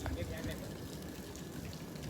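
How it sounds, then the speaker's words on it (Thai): Rain falls on an elephant show ground in Thailand, a soft, steady, faint hiss of drops with nothing else standing out. "เสียงฝนนะครับ เสียงฝน"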